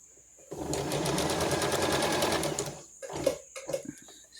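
A sewing machine stitching elastic fabric runs in a steady whirring burst for about two seconds, close and clear, then stops and gives way to a few soft handling sounds.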